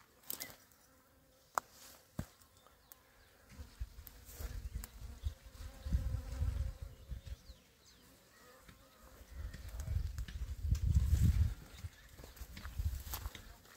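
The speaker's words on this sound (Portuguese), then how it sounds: "Tem umas abelhas ali, tirando néctar." Bees gathering nectar from small purple flowers beside a cornfield in the dry caatinga scrub of northeastern Brazil, a faint, wavering buzz that swells and fades as insects move close to the microphone, with brief knocks and rustles.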